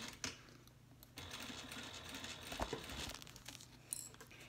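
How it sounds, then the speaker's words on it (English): A sewing machine hums and stitches steadily at close range while inserting a 12-inch metal zipper, with faint rustling of fabric and a few small clicks. "So we're just sewing along."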